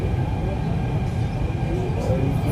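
A metro train rumbles steadily from inside the carriage, a dense low roar with a faint whine above, continuous and fairly loud over the short stretch.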